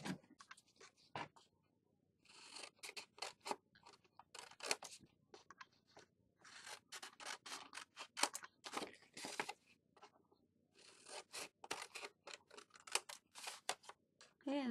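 Scissors snip through paper corners for a handmade stationery caddie box, a series of short crisp cuts in uneven bursts with quiet pauses between, close and moderately loud.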